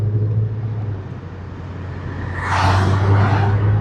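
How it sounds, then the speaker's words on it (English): Heavy rush-hour traffic keeps up a constant low engine rumble, and a louder vehicle sweeps by nearby partway through, with no talking. "It's just the traffic is so nasty."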